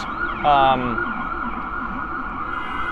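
An ambulance siren on a busy Midtown Manhattan street in New York City, a loud wailing sweep near the start that stays audible as it passes, over steady city traffic rumble.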